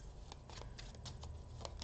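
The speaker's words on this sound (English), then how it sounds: "And now I'm just going to shuffle the deck" A tarot card deck is shuffled, giving quiet, quick papery riffles and soft flicks in a brief, irregular flurry close by, with no voices.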